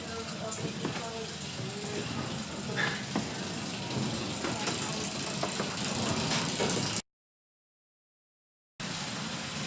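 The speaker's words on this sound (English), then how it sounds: "These are rolling mills." Flour mill rolling mills at the Pickwick Mill run with a steady, loud mechanical drone and rattling clatter. A short stretch of silence cuts in near the end before the machinery noise resumes.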